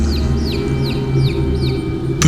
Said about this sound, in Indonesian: terasa terdengar seperti anak ayam.